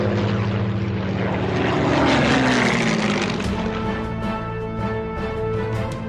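A Soviet piston-engine propeller fighter drones loud and close, its steady engine roar swelling and passing with a bright buzzing tone, no voices.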